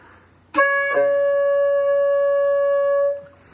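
A single sustained flute tone with bright overtones, blown across a lower fingering, preceded by a short breathy attack and a brief lower note, held steady for a couple of seconds.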